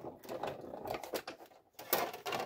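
Stamped paper strips run through an embossing machine, giving an uneven mechanical rolling and grinding that swells and drops in short stretches, fairly quiet and close, with no speech.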